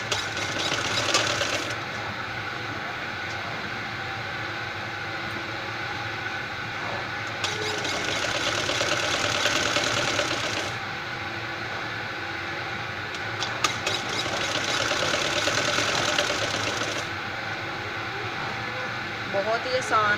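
A sewing machine stitches a small girl's frock indoors, its quiet rapid whirring running in a few bursts of several seconds each, separated by pauses, while someone talks throughout.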